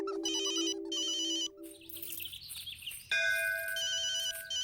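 A phone ringtone chimes loudly in repeated melodic bursts, breaking off briefly in the middle before ringing on again, with no voices over it.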